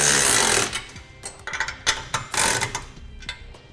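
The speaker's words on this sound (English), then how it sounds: "Go ahead and tighten them down once you have them hand tight." Power tool tightening trailer hitch bolts under a 2015 Buick LaCrosse during a Curt receiver install, short loud rattling bursts and clattering impacts in an irregular rhythm, close by with no voices.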